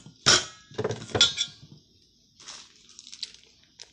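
A spoon clinks against a bowl as food with fish sauce is mixed. There are a few bright, light chinks and taps, then softer scattered clicks, close and fairly quiet with no talking.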